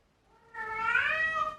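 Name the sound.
cat meowing, wanting to go outside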